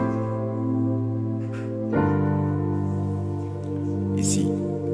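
An electronic keyboard plays a strings voice with its tone turned down, holding soft sustained chords that shift to a new chord partway through, with no talk.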